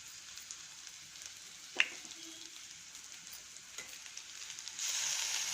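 Onion and spices frying in a pan give a steady, soft sizzle, with a sharp clink near the start and a brief scrape, and the sizzling swells louder toward the end.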